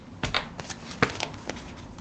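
A deck of cards being shuffled near the microphone, several quick riffles and soft slaps in an uneven rhythm with a couple of louder bursts, no speech.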